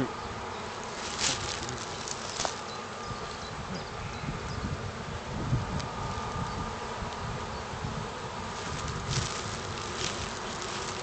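A steady swarm of black honeybees hums continuously during a spring hive inspection, with individual bees buzzing closer now and then over light wind.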